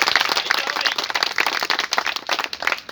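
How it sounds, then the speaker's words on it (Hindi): Scattered audience clapping at an outdoor tree-planting event in Nagrana village, a steady patter of many hands at moderate distance, continuous for a few seconds with no talking over it. "भाई साहब का आप अपनी तालियों से स्वागत कर दीजिए"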